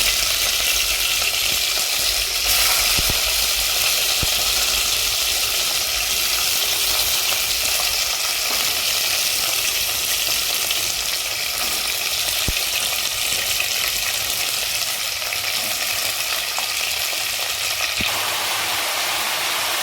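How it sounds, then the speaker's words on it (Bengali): Vegetables for a vegetable curry, cooked without onion, garlic or ginger, sizzle in a frying pan with a loud, steady hiss that holds evenly throughout, with a few faint clicks. "এখন আমি সবজিগুলোকে দিয়ে দেবো"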